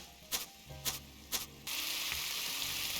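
Salmon seasoned with salt and pepper frying in a pan in the cooking video game Cooking Simulator: a few soft clicks, then a loud, steady hiss of sizzling fills the second half.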